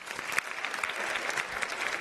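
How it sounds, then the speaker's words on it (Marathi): Enthusiastic applause from a studio audience at a Marathi television singing competition, dense continuous clapping that holds steady at full strength throughout, fairly close. "त्यांच्यासाठी जोरदार टाळ्या होऊ द्या."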